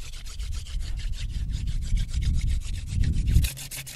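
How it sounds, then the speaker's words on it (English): A wooden hand-drill spindle is spun between the palms in a friction-fire attempt, giving rapid, rhythmic back-and-forth rubbing and scraping of wood on wood, close and steady, rising into a heavier grinding burst near the end. "now I'm ready for a third attempt at the hand drill"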